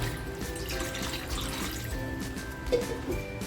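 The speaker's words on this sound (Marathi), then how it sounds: "मी झाकण अर्धवट ठेवून वरती पाणी ठेवते" Water poured onto a half-open lid over a pot of mutton broth cooking on the stove, a continuous splashing trickle close by with a brief clink near the end.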